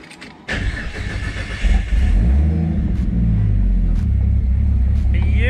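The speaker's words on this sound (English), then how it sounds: "when we start up the car, it'll start up pretty much straight away" Ford FG X sedan engine cranking and firing up after a fuel pump replacement, a brief starter whir then a catch, a rev and a steady deep idle rumble, close.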